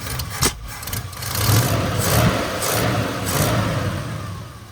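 A truck engine runs steadily after a transfer case swap, a low rumbling drone with a brief rev near the start and a few swelling pulses, loud and close.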